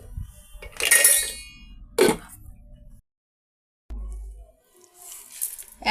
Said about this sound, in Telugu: యాపిల్ పీసెస్ని, ఐస్ క్యూబ్స్ని యాడ్ చేసామండి.